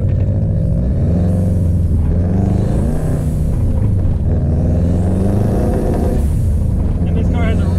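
A turbocharged Subaru Impreza 2.5RS with a JDM WRX engine swap drives on a winter road, its deep engine rumble rising and falling steadily while a person talks over it.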